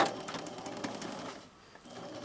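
A serger sewing machine hums and rattles steadily at a fairly low level while the top line of a skirt waistband is finished, with a brief dip near the end.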